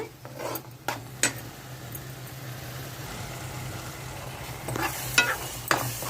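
Spices and onions for a goat mutton curry fry softly in a pan under a steady low sizzle, with a few scrapes and clinks of a stirring spoon near the start and end.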